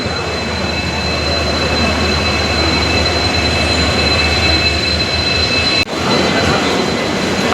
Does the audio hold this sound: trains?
yes